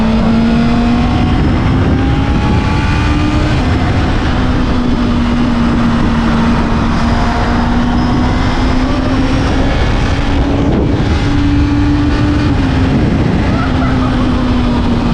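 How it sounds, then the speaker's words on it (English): A Honda CB650R inline-four motorcycle engine running loud and close, a steady, sustained drone with slight pitch rises and falls as it revs, with no voices over it. "Then there's that gem of an engine."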